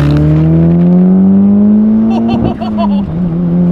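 A Ford Laser TX3 turbo AWD hatchback accelerates hard, its engine note climbing steadily and loud, with a brief burst of higher mechanical whine and turbo noise near the end.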